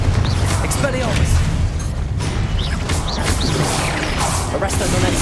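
Rapid spell-casting effects from the Hogwarts Legacy video game, Confringo and Expelliarmus, with bursts, booms and crashing impacts packed densely together. A voice calls out the spell names over the dense, loud action.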